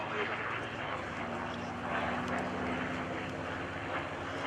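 A P-51D Mustang propeller aircraft engine drones steadily at an airshow, with a faint high whistle riding over the roar; a voice may be mixed in underneath.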